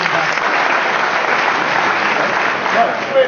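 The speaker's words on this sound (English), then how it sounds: "give him a round of applause for John Young" Audience applause for a bodybuilder at a posedown during the 2013 Jay Cutler Classic, a dense steady roar of clapping throughout, with a few brief cheers near the end.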